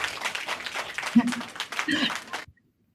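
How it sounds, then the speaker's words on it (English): Applause from a conference audience, a dense burst of clapping lasting a couple of seconds before cutting off abruptly into silence. "And the crowd goes wild."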